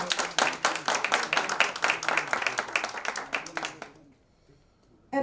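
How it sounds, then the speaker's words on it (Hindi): An audience at a film poster launch claps loudly and steadily for about four seconds, with bursts of distinct hand claps, then the applause stops abruptly into near silence before a new sound begins at the end. "एक बार जोरदार तालियां बजाइए"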